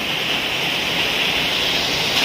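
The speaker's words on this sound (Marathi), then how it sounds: "एवढ्या मोठ्या प्रमाणावरती सध्या आता चिपळूणमध्ये पाऊस चालू आहे" Heavy monsoon rain with strong wind in Chiplun, a steady dense roar of downpour that stays loud and unbroken throughout, with no voices.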